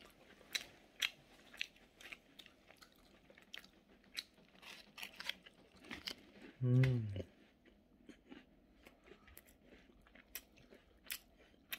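Biting into and chewing a sandwich, a well-known one from Paju, with soft crunchy bites and one louder close chomp midway, under faint background noise and brief talk.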